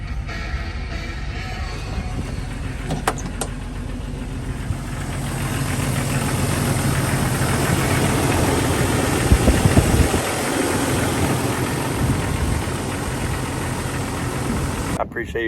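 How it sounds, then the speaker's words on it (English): A Jeep Cherokee engine with new ignition coil packs runs steadily at idle for the whole stretch, a loud, even mechanical drone with a brief catch near the start and a slight surge midway. "I'm fixing to start it, make sure everything looks and sounds good and it's getting proper spark."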